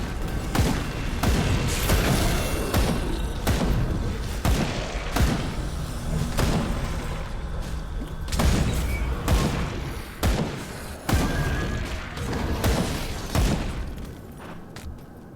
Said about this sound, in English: Oh yeah, those explosions. They're so good.